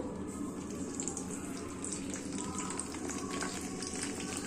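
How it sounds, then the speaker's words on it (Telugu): Brinjal bajji pieces fry in hot oil with a steady, dense crackling sizzle that holds at an even level throughout, fairly faint and with no talking. "కొన్ని కొన్ని మనం నూనెలో ఫ్రై చేసుకుందాం"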